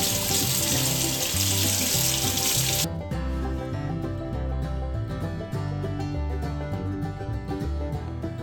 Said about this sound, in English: After a quick water rinse and dry